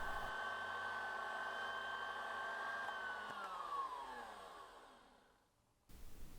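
Electric mixer whipping boiled condensed milk with room-temperature butter, a steady high motor whine that slows down and stops, followed by a brief rustle.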